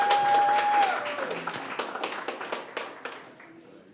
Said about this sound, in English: Round of applause for Celandra Mathurin.